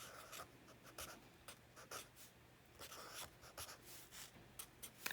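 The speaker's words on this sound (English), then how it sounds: "let me write that down" Quiet, close scratching and tapping strokes of handwriting on a surface while working out a geometric series sum, in short irregular bursts with pauses, no speech.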